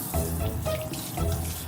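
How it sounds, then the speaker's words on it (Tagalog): A faucet runs steadily while someone washes their hands, giving a close, continuous rush of water with a low hum underneath throughout. "Buksan mo yung gripo YG"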